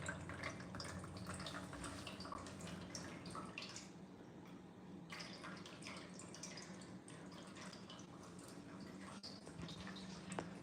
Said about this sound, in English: So I got her this touchpad motion sensitive water fountain.